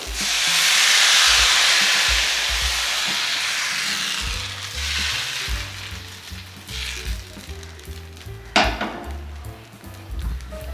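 Kerala appam batter hits a hot pan with a loud, close sizzle that swells and then eases into a softer hiss, followed by a few light pan clinks.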